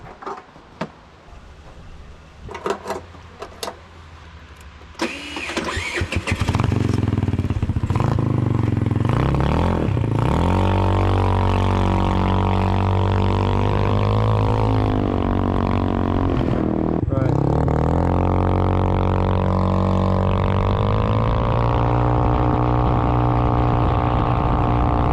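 GY6 scooter fitted with a gear up kit: a few clicks and cranking attempts, then the engine fires and drones steadily and loudly, climbing and dipping in pitch as it rides off.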